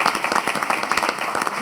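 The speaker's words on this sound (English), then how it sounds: "please honor him one more time with a big round of applause" An annual meeting audience gives a round of applause to honor a team member: brisk, loud clapping from a crowd close at hand, individual claps distinctly audible in a quick, uneven patter.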